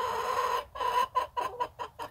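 Backyard hens cluck in short, repeated bursts, fairly close, with brief pauses between the calls and no talking.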